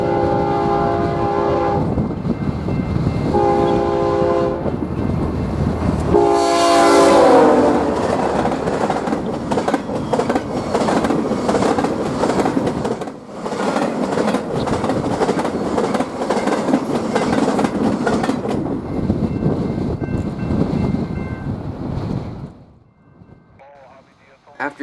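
BNSF 7918, a Z intermodal freight on the Southern Transcon, roars past at speed on a windy day, starting with horn blasts before a long, loud rumble of wagons and rail clatter that fades out near the end.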